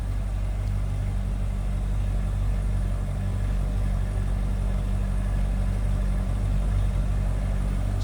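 A 2008 Chevrolet Corvette Z06 coupe idles steadily, its deep, even engine rumble close and constant throughout with no talk over it.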